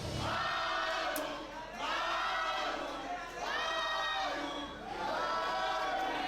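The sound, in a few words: crowd cheering at wrestling event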